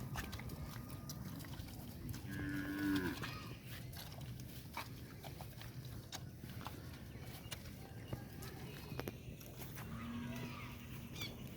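Jafrabadi buffaloes walk to drink water, giving two low, drawn-out moos several seconds apart that are faint and somewhat distant over a quiet outdoor background.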